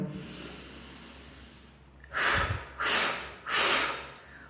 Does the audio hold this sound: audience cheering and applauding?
no